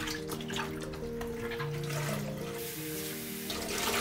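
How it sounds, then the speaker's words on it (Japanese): Hot water runs from a kitchen tap over fried tofu (aburaage) being squeezed and rinsed by hand, a steady close splashing gush that continues throughout, with no talking. "こんな感じで軽く揉みながら、何回かこの水道から出るお湯で洗い流します。"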